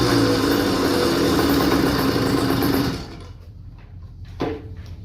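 A small Bofeng motorized bicycle engine, freshly cleaned carburetor, buzzes at a high, steady pitch for about three seconds and then cuts off, leaving a quiet pause broken by a brief knock.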